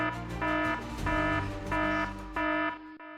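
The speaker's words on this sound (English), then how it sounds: "You've triggered the alarm." Security intrusion alarm blaring in repeated pulses, each burst a loud electronic tone roughly half a second long separated by short gaps, ending abruptly with no voices over it.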